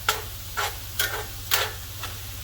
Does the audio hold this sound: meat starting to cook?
yes